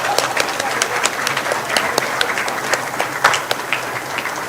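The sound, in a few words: audience applause at board meeting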